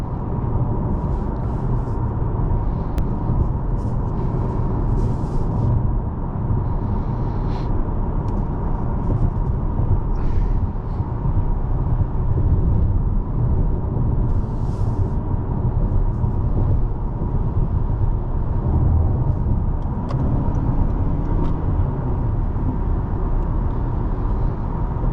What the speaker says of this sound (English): There's a little bit of road noise that we can hear, but it's hidden well.